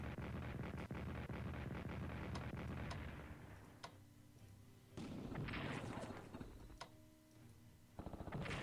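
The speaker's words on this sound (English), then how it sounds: "Let's hit them with artillery." Artillery fire in the Strategic Command WWII strategy game, a rumbling barrage of booming blasts followed by a quieter lull and a second round of heavy impacts, rather faint overall and without talk.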